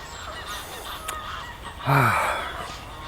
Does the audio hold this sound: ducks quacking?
yes